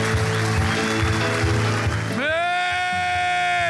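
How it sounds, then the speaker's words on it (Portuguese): A church congregation claps loudly in a dense wash of applause for about two seconds, and then sustained organ-like music takes over. "Aplauda o Senhor bem forte."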